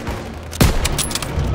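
Call of Duty WWII street battle: a loud close gunshot burst followed by a rattle of rapid fire and distant cracking shots.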